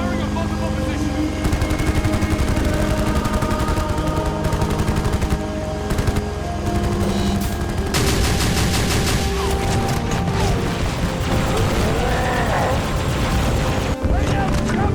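Heavy gunfire in a Halo fan animation, relentless overlapping bursts and booming blasts, loud and continuous throughout, mixed with the soundtrack and with voices speaking over parts of it.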